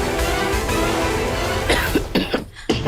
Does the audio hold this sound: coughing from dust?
yes